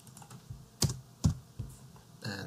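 Keys on a computer keyboard clack a few times, sharp and close, while a header is typed into OrCAD PCB design software, with quiet gaps between the strokes.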